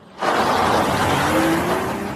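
A car being driven gives a steady engine hum and road roar that cuts in abruptly and holds loud for about two seconds, with a faint rising whine.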